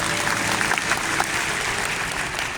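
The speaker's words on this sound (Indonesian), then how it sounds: "Kasih tepuk tangan satu lagi." Church congregation applauding during a Sunday service, a loud, dense wash of clapping filling the hall, sustained without a break and with no one speaking over it.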